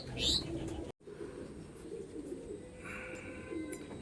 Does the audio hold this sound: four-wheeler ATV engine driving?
no